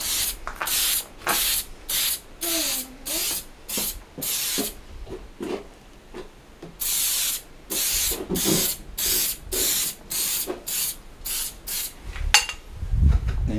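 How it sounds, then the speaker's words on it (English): An aerosol spray can sprayed in short, repeated hissing bursts of about half a second each, separated by brief pauses, close and fairly loud during work on a Yamaha PW80 motorbike. "A spray can."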